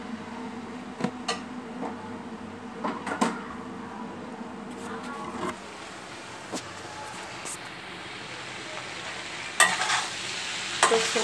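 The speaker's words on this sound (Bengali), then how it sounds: "আমি একটু নেড়ে চেড়ে এটা নামিয়ে নিব।" Cooked chickpea curry stirred in a pan, a low simmering sizzle with intermittent spoon scrapes and knocks against the pan, a louder clatter near the end.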